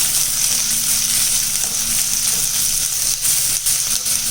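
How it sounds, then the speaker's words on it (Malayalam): Sliced onions fry in a pan with a steady, close sizzle, and a spoon or spatula drags through them now and then. No one speaks. "ഇനി ഇതിലേക്ക് നമുക്ക് സവാള അരിഞ്ഞത് ഇട്ട് കൊടുക്കാം. സവാള നല്ലോണം ഇളക്കി കൊടുക്കാം."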